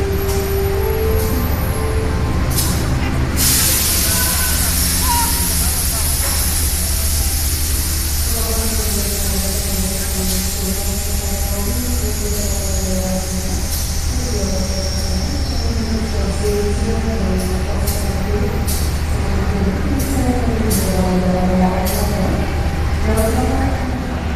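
The Sembrani passenger train pulls into a station with a loud steady rumble, rising wheel squeal and clattering cars, continuous and close throughout.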